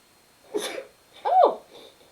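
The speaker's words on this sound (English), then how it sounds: "I don't know where all those sneezes are coming from." Two quick sneezes about a second apart, close and fairly clear against a quiet room, the second one sharper and louder than the first.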